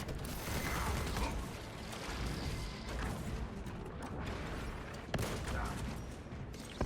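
Video game gunfire during hip-fire combat, heard as a dense, continuous rattle of rapid shots and mechanical clatter, loud and close, with a few sharper cracks standing out near the end.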